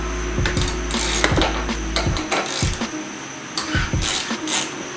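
A ratchet clicks in quick, uneven bursts while tightening a bolt on a car's FKXRacing ram air intake, with close, sharp metallic ticks and short pauses in between.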